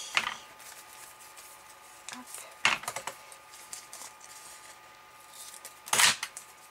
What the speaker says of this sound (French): j'ai un ciseau qui coupe vraiment plus très bien